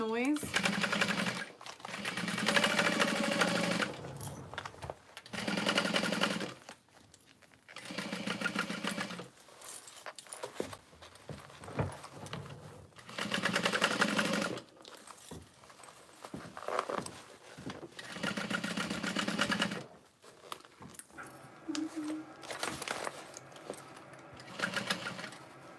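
A sewing machine stitches through a handbag lining at a zipper pocket. Several loud, close bursts of rapid mechanical chatter start and stop, with a person speaking in the pauses between runs.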